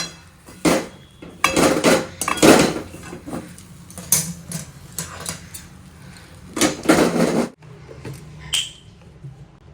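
Vegetarian dhokar dalna, cooked in mustard oil, is stirred in a cooking pot: clustered metallic clanks and scrapes of a spoon against the pot come in bursts with quieter gaps, close and loud, with no voices.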